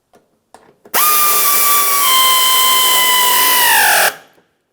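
A power drill snugs up 5.5mm mounting screws on a Ford Flex bumper cover, one steady high whine of about three seconds, close and loud, winding down at the end, after a few small clicks.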